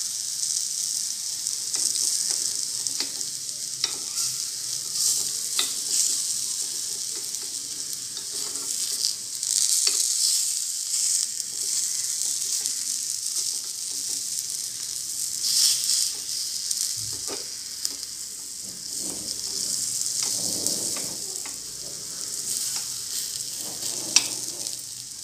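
Mixed dal appe cooking in oil in an appe pan over a low flame, giving a continuous close sizzle and hiss with occasional faint clinks and stirring sounds.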